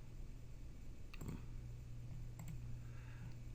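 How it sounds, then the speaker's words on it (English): A computer mouse is clicked during a demo of a help system: two faint, isolated clicks about a second apart sound over a quiet room hum. "I click to open it, click outside it to close it"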